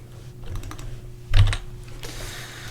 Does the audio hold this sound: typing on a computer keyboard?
yes